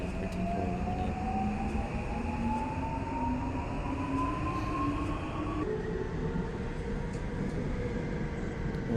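A train runs steadily along a railroad in Minecraft, a continuous loud rumbling drone with rising and falling tones throughout, with no talk over it.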